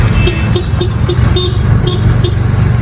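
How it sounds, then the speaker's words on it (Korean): A tuk-tuk horn in Sri Lanka gives a run of short, quick toots, about seven or eight, spaced irregularly over the constant rumble of the small engine, loud and close. "스리랑카에서 경적은 생명이거든요"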